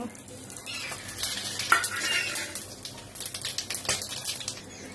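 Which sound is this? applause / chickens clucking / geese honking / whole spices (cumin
whole spices (cumin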